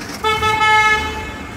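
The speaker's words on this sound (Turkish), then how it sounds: "Kornasına baktılar mesela." A car horn, tested during a routine vehicle inspection, sounds one loud, steady toot lasting about a second before fading into low engine and traffic noise.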